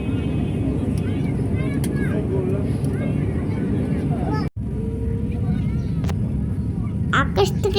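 Steady broadband roar inside an airplane cabin during a Dhaka to Cox's Bazar flight as it descends, constant and loud, with brief chirps and a sudden momentary dropout midway.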